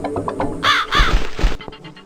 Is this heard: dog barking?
no